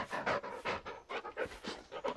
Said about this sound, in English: Can I pet the dog?